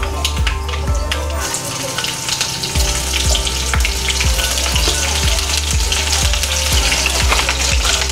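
Green chilies hiss and sizzle as they fry in hot oil with crackling mustard seeds, a steady loud frying texture with sharp pops and stirring clatter, close to the pan.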